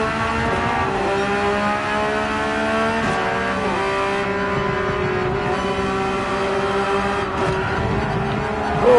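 Race car engine in Gran Turismo 4 revving hard on throttle, a continuous loud whine with steady harmonic tones rising and shifting through gear changes, with faint tire squeal.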